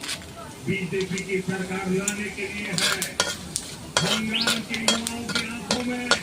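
Whole chillies and whole cumin seeds sizzle in hot oil in a pan, stirred with a spoon that scrapes and clinks now and then; a voice talks over the steady frying.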